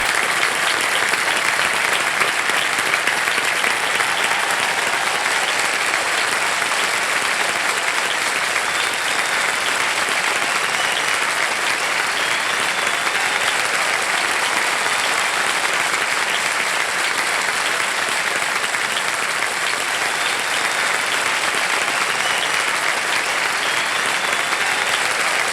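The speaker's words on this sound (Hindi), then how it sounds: "तालियों के साथ इनका अभिनंदन और स्वागत" A studio audience at a television quiz show claps steadily and continuously in warm applause welcoming a guest, dense and sustained throughout without pause.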